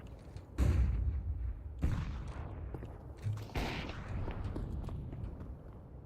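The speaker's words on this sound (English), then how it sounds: "Throwing flashbang." A flashbang grenade goes off in a first-person shooter video game, giving a few sharp, loud bursts with thuds and footsteps between them, and no talk over it.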